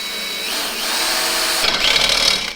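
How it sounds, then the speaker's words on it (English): A power drill whines loudly and steadily, its pitch rising as the bit bites through metal on a snowblower, close to the microphone. "Let's drill them out."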